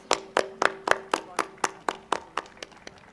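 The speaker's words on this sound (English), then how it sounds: "Let's give them a resounding round of applause." Audience clapping at a secondary school day event, heard as a slow, evenly spaced series of about a dozen single claps, fairly close and clear, gradually fading.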